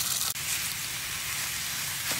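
Two pounds of breakfast sausage browning in a pan while being broken into smaller pieces, giving a steady, even sizzle and hiss with a faint scrape or two.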